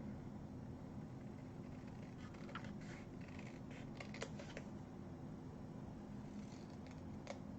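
Scissors snip through card stock during card making, leaving a few faint, brief cuts and clicks in a quiet room with a steady low background hum.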